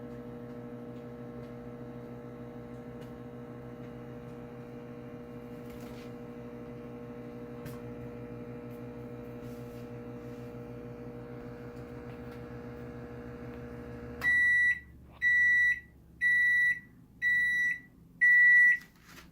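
A steady electrical hum from a microwave oven drawing 33 amps drones for about fourteen seconds, then stops and a series of five loud, evenly spaced beeps follows.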